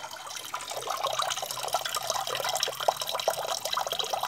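Water draining from an Eca Confeo Plus combi boiler, a continuous close splashing trickle into a container that holds steady and grows slightly fuller throughout.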